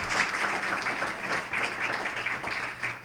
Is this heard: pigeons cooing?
no